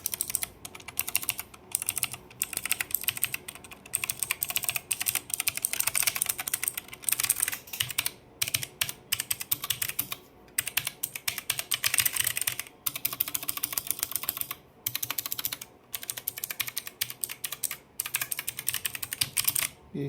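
Rapid keystrokes clatter on an ANTesports MK1300mini mechanical keyboard, crisp and close, in dense bursts broken by short pauses over about twenty seconds.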